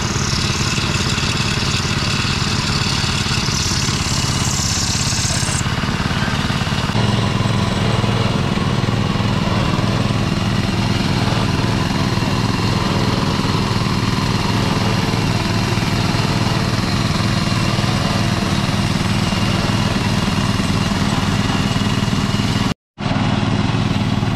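A heavy water-well drilling machine engine drones steadily at close range, loud and unbroken, with a low rumbling hum, as the drill rig penetrates the ground.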